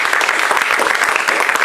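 A church congregation applauds loudly and steadily, a dense wash of many hands clapping with a few voices mixed in.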